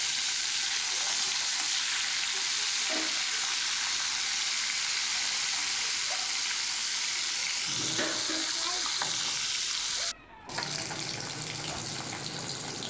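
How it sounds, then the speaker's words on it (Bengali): Pieces of rope fish fry in hot oil in a pan, giving a loud, continuous sizzle that barely changes, with a brief dip near the end. "বাকি মাছগুলোকেও ভেজে নেব।"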